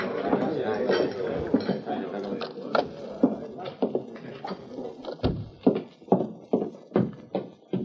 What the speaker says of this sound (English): entered a thicket of cottonwoods where Tonto had been waiting with the horses, Scout and Silver